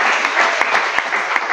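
A church congregation breaks into loud, sustained applause, dense steady clapping filling the space close and full for the whole moment.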